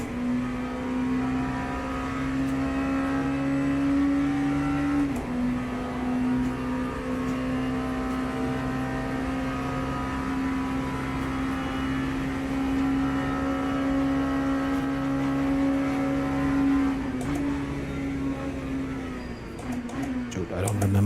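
An LMP2 prototype race car in Le Mans Ultimate holds a loud, steady high-revving engine drone close up, with brief dips where the pitch drops and climbs again, as on gear changes, running for the whole stretch.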